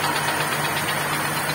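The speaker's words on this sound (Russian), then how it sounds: "Я думаю, вы слышите, наверное, слышите, не знаю, как на камеру, посторонний звук от двигателя." A GAZelle 2775 engine runs steadily with an abnormal knocking, a dense continuous mechanical drone with a faint low hum throughout, close and loud with no voices.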